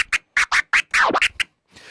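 A boomerang scratch on a turntable, slowed down, with an extra phantom note slipped in: a quick series of about eight close, sharp scratch strokes, one longer swooping sweep in the middle, then a faint hiss.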